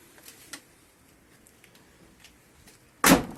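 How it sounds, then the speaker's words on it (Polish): The door of a Peugeot 206, just fitted with a new door check, closes with one soft, muffled thud near the end, after faint small clicks and handling noises. "Drzwi zamykają się"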